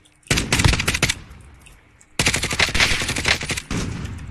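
Close, loud automatic gunfire from a Grau rifle in Call of Duty: Warzone, heard as two long rapid bursts separated by a short lull, then a third burst, with no talk over it.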